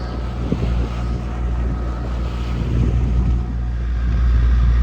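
A sailboat motors into a headwind off the coast of Greece with its engine running and mainsail sheeted in, a steady low engine rumble mixed with wind buffeting and water rush, continuous and fairly loud with no talk.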